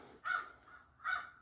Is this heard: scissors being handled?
no